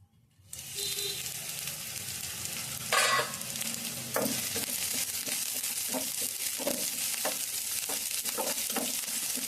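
Ridge gourd pieces sizzle steadily in a pan with onion and a sprinkle of salt, with a louder burst early on. Soft scraping stirs follow at a moderate level and no one talks.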